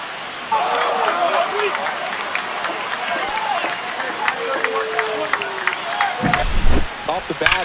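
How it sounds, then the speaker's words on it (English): A crowd at a Red Sox home game roars and applauds after a home run in the MLB The Show 25 baseball video game. The cheering is a dense, sustained wash with a brief louder swell near the end. "He just sparked this home crowd in a big way."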